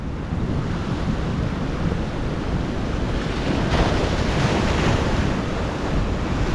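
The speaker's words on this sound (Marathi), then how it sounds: "बघा आम्ही पूर्ण जिथे उभे आहोत ना तिथे आता लाटा यायला लागल्यात." Sea waves surge and wash onto the shore in a loud, continuous roar, with wind buffeting the microphone and no voices.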